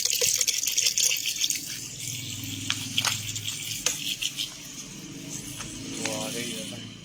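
Water runs steadily from a tap with a continuous hissing splash, close and fairly loud, while people talk over it now and then.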